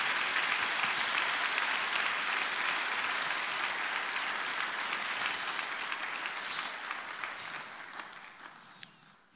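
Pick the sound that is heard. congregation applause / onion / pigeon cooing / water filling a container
congregation applause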